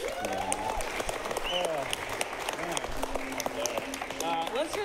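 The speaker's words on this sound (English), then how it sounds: "give yourself a round of applause" An audience claps steadily throughout, with voices talking and cheering over the applause.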